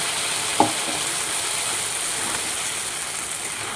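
Okra sautéing in a pan with mustard paste of white and black mustard seeds and green chilies, giving a steady, even sizzle with one brief clack of a utensil early on.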